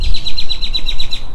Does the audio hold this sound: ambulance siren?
no